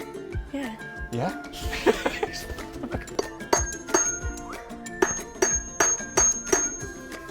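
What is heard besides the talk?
chisel struck with a whack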